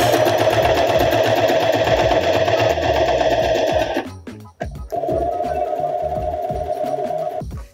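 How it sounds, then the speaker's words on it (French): A sewing machine runs a straight stitch along a bed sheet under repair, a close, loud, steady whirring hum that pauses briefly midway and then starts up again. "On va maintenant passer à la machine. Donc on va piquer en point droit."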